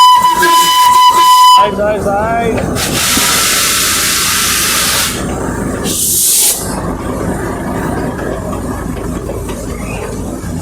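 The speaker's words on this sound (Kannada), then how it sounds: "ಟಾಯ್ ಟ್ರೈನ್ ಬರ್ತಾ ಇದೆ." The Darjeeling toy train gives a loud steam whistle at the start, then steam hisses in long bursts as the engine works nearby, with a brief word spoken.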